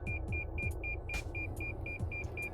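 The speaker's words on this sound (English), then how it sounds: "it's beeping that we're close to the front corner there" A 2022 Toyota RAV4 Limited AWD parking sensor beeps in a rapid, regular series of short tones over a low engine idle, close and clear, warning of the front corner.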